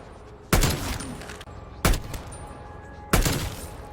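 Gunfire in Call of Duty: Black Ops Cold War on PS5, three loud separate shots about 1.3 seconds apart, each with a sharp crack and a decaying tail over faint background noise.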